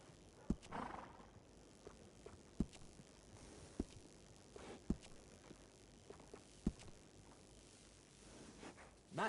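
Horse moving in a stable in the video game Red Dead Redemption II, with scattered hoof thuds and clops at irregular intervals, soft snorts and shuffling over a quiet room tone.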